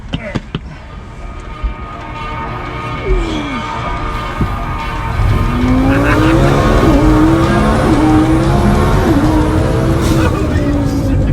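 A high-performance Lamborghini or Audi tuned car accelerating hard, its engine note rising loud and continuous with repeated gear-change sweeps, while people talk over it.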